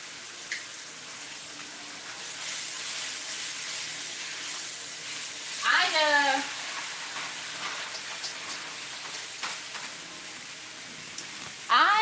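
Sauce with Worcestershire sizzling steadily in a hot frying pan while being stirred, a constant loud hiss with brief scraping clinks of the utensil against the pan.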